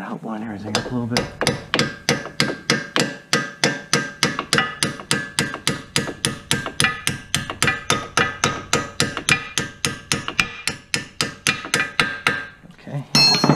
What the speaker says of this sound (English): A couple of taps of the hammer to help line everything up a little bit.